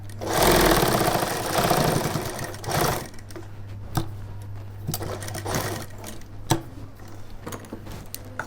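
A sewing machine stitches a shirt collar, running in one loud, steady burst for about three seconds, then falling quiet apart from a low constant hum and scattered sharp clicks and taps.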